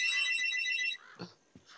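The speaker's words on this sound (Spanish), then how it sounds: "Qué susto me ha pegado el puto teléfono" A telephone rings with a bright, repeating electronic ringtone that is loud and close for about a second, then cuts off, leaving a few quieter thumps and rustles.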